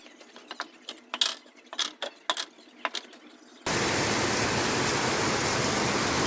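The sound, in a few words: rain falling outdoors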